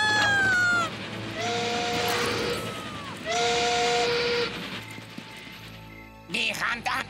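Cartoon steam train approaching, its whistle sounding in loud sliding blasts with rumbling rail noise beneath, while voices talk over it; a brief animal-like cry rises near the end.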